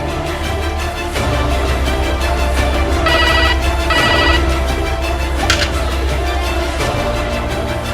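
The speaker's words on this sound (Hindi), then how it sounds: "फोन उठाओ।" A telephone rings in short electronic bursts, two clear ringtone pulses mid-clip over a loud dramatic background with music-like tones.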